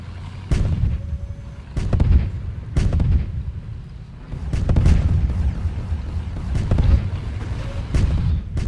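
Heavy tank cannon shots from an online tank battle game, a series of deep booming blasts about once a second over a low engine rumble, loud and close.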